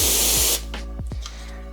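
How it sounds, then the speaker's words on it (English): A can of compressed air for dusting electronics gives a loud steady hissing spray that stops abruptly after about half a second, then faint clicks and handling noises follow close by. "spraying it with canned air"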